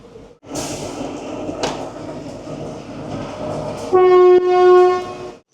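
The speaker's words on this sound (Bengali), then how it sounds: "টয় ট্রেনে একটা ইঞ্জিন আসছে।" Engine of the Kalka Shimla toy train pulling into a station, a steady rumble and rattle building up, then a loud sustained horn blast near the end, close and with no voices.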